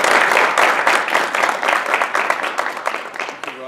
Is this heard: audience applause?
yes